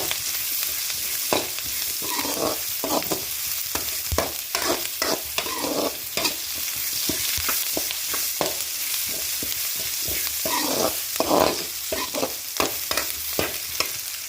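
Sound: sautéing mutton curry masala in a pan until browned

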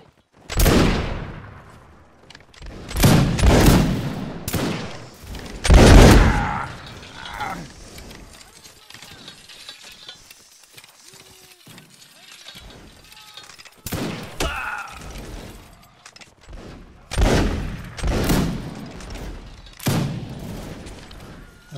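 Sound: volley of musket fire at a reenactment line battle

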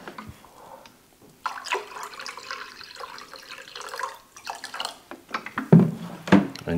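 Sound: pouring vinegar and water mixture

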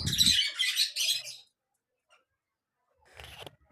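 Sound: farm birds squawking

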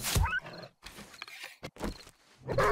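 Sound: wolf noise in video game 7 Days to Die

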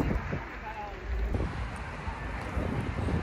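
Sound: wind blowing

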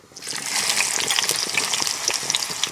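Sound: onion pieces added to hot oil, frying

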